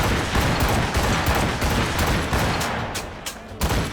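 A ship's cannons fire in Assassin's Creed Rogue during a naval battle, a dense, continuous roar of booming blasts with crackling bursts, loud and close, and shouted crew voices mixed in.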